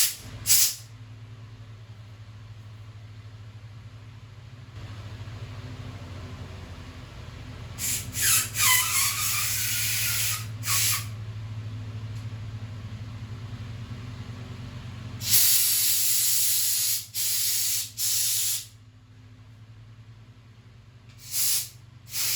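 Compressed air blasts through a part of a Honda CT200 Auto Ag motorcycle in several sharp hissing bursts, the last few short and choppy, over a low steady mechanical hum.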